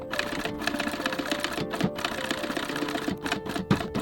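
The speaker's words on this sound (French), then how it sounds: "maintenant je vais venir coudre la partie du renfort qui est seulement collée" Sewing machine stitching a glued leather reinforcement piece on a pouch, with a steady, fast, clattering rhythm that runs throughout at moderate loudness.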